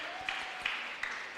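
A church congregation claps during a Sunday service to congratulate their pastor, a dense, steady round of applause with a few sharper claps rising above it, plus a faint sustained tone in the background.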